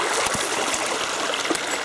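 A mountain stream gurgles and rushes near a waterfall, a loud, steady wash of flowing water with small splashy bubbling bursts, heard close and alone.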